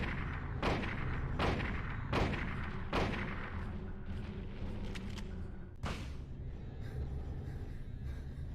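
Gunfire in the Silent Hill 1 video game: a series of loud, sharp shots at roughly regular intervals, then a final blast over a steady low rumble.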